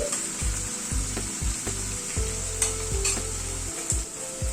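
Garlic and green chili paste get stirred in a frying pan, a continuous close sizzle with repeated scraping strokes of the spoon against the pan, no talking.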